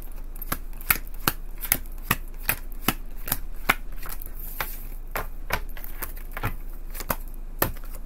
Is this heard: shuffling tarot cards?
yes